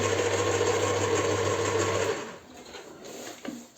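Batter with homemade sour cream is whipped by an electric mixer, a steady loud motor whir with a constant hum that cuts off after about two seconds, leaving quiet scraping and a faint knock near the end.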